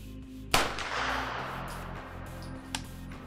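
A KR-9 firing SIG 124 grain training ammunition at a range fires one loud, sharp shot with a ringing decay, followed about two seconds later by a fainter second report, close by.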